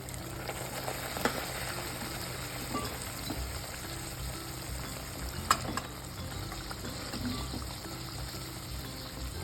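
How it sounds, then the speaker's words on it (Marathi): Mutton tipped into a pan of roasted masala for a spicy mutton rassa, giving a steady, close sizzle of frying with a couple of sharp clatters, and no voices. "छान मसाला भाजून झालेला आहे मस्त आता मी मटण टाकून घेणार आहे"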